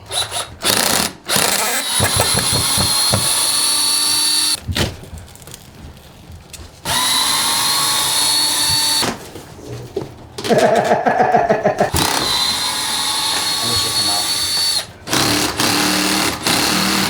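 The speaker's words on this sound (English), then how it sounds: "I'm going to just pull the screws out so we can hopefully reuse them" Power drill backing screws out of scrap wood pieces while building a studio in a shack, running in several loud whirring bursts separated by short pauses, close up with no talk.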